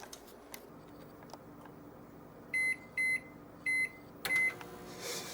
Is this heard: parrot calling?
no